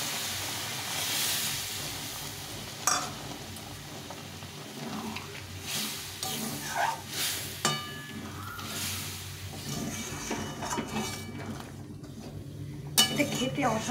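Boiled water poured onto fried spice masala in a pan, producing a steady steamy hiss and sizzle with occasional clinks of a utensil against the pot.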